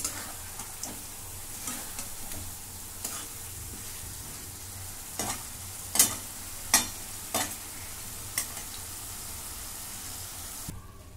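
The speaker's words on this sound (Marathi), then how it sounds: "मसाला परतून घेते 2 मिनिटं." Masala for egg biryani being sautéed in a pan, a continuous sizzle broken by repeated scraping stirs and sharp spoon knocks against the vessel.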